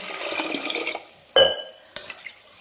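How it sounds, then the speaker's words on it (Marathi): Rice is rinsed by hand in water inside a pressure cooker, with a wet swishing and sloshing that settles into quieter dripping, followed by two sharp clatters of grains and liquid against the metal pot. Close and fairly loud, with no talking. "आता आपण धुवून घेऊ तांदूळ। छान 2 पाण्याने आपल्याला धुवून घ्यायचे।"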